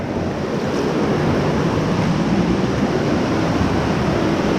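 Creek water rushing through rocky rapids on Buck Creek, a loud, constant churning roar close to the microphone with some wind buffeting and no voices.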